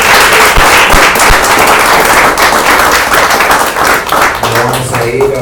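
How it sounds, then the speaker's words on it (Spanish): Applause from a church congregation, dense broadband clapping that fills the space loudly and steadily for several seconds before easing slightly near the end. "Da un aplauso a Él."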